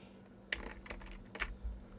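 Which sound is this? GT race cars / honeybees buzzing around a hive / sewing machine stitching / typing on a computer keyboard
typing on a computer keyboard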